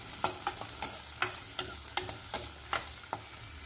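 Small onions, dried red chillies and garlic sautéing in a pan, a soft continuous sizzle broken by regular scraping stirs about every half second.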